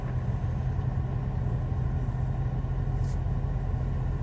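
Steady low rumble of a truck driving, heard from inside the cab, with engine drone and road noise constant and fairly loud throughout.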